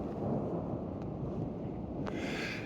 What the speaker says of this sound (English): Up in the Sierras, it's quite common to get an afternoon thunderstorm.